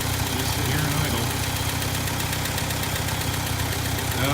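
A 1964 International Scout 80 engine, recently fitted with a new coil, idles steadily and close by. It gives a continuous low, dense rumble with an even mechanical pulse from start to finish.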